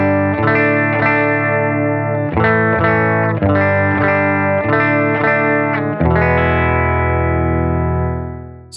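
A Beetronics Abelha fuzz pedal on a gold foil Fidelity guitar through a Silktone amp gives a thick, buzzy fuzz tone. Simple repeated chords ring in even strums, ending on a long sustained chord that slowly fades.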